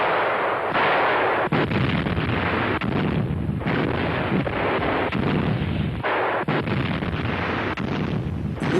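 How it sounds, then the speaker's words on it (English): German 88 mm Flak 36 anti-aircraft guns fire in 1944 wartime footage from western Russia, a loud, continuous barrage of heavy booming shots with rumbling echoes and roaring wind-like noise. "In this sequence, 88mm Flak 36 provide air cover to German ground forces in western Russia in 1944."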